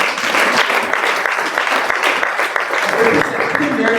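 A church congregation applauds to acclaim Jesus, a dense, steady wash of clapping that stays loud and close for the whole stretch, with voices mixed in underneath.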